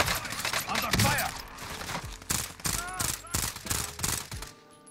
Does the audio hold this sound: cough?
no